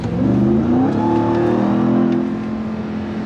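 A loud Ram TRX pickup truck engine revs and holds a steady, throaty drone, rising slightly in pitch before settling, close by with no talking.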